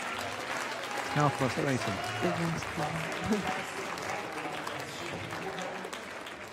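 Crowd applauding a show jumping round at St. Gallen, steady clapping carrying through the whole moment beneath a commentator's voice.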